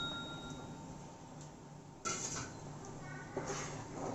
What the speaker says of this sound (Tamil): பன்னீரையும் சேர்த்துட்டு